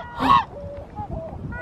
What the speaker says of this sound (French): Regardez, il y a des mouettes.